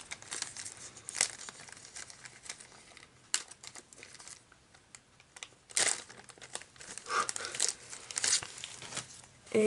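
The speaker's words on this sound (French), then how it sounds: "Du coup, la carte, je vais la mettre sous pochette" A promo card being slid into a plastic card sleeve, making close, soft crinkling and rustling of thin plastic in irregular bursts, fairly faint, with no talking.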